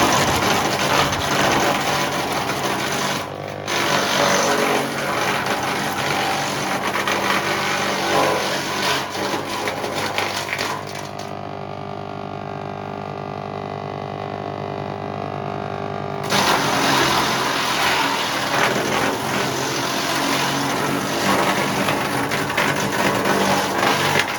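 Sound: wood chipper shredding branches

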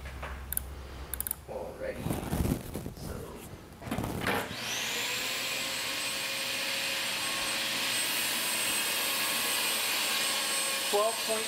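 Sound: vacuum cleaner running during suction test

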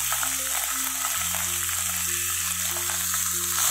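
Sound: chopped onion frying in pan

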